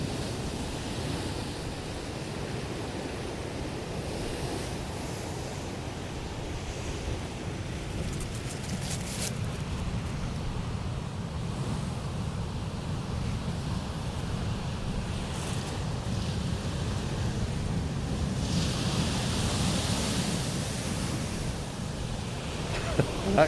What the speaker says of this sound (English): listen to the lovely sea waves coming in